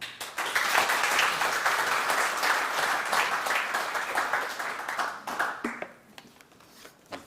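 A crowd at a defense industry breakfast forum gives sustained applause to welcome a speaker, dense clapping that swells early, holds, then thins into scattered claps near the end.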